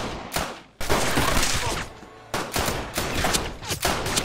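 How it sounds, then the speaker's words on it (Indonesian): Bursts of rapid gunfire crackle loudly, broken by short pauses, with sharp overlapping shots and debris-like clatter. "Dia ditembaki dan berusaha berlindung sambil membalas tembakan."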